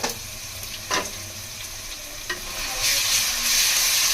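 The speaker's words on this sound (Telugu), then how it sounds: "ఈ అల్లం వెల్లుల్లిపాయ పేస్ట్ కూడా పచ్చి వాసన పోయే వరకు ఫ్రై చేసుకోవాలి" Ginger-garlic paste sizzling and being stirred in a pot, a steady close fry with a couple of sharp scraping stirs, the hiss brightening toward the end.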